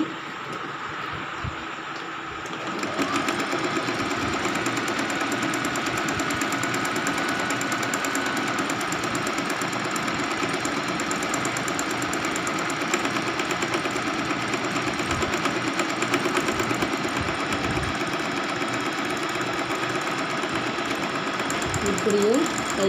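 A sewing machine stitching a kurti starts after a brief pause and then runs in a steady, fast mechanical whir and rattle, with a voice talking over it.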